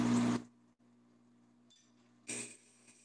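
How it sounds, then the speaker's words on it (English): A glass grinder works stained glass: a steady low motor hum runs throughout, broken by two loud, harsh bursts of grinding, one at the start and one near the end. "That's the sound of grinding glass."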